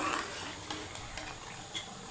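Chicken karahi with softened tomatoes cooking in a pan over low heat, giving a steady close sizzle and frying hiss with occasional stirring clinks throughout.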